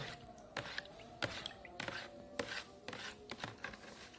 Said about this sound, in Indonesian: Kita aduk teman-teman sampai benar-benar campur.